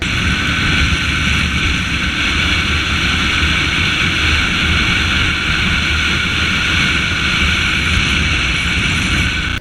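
A 250cc motorcycle engine holds a high, strained whine near its red line, a loud steady drone with constant wind rush, continuous throughout without letup.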